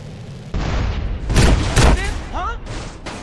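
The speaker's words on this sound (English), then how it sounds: "I can shoot a rocket." A rocket fired and exploding in GTA San Andreas Definitive Edition, a loud launch boom followed by heavy blasts in quick succession, mixed with other game sounds and a voice speaking.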